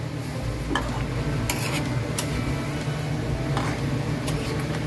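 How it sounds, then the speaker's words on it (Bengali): Rose water and kewra water are mixed into a Mughlai rezala in a pan, with gentle stirring and a few spoon clinks over a constant low hum and a faint sizzle. "আর 1 চামচ কেওড়া জল দিয়ে ভালো করে মিশিয়ে নেব।"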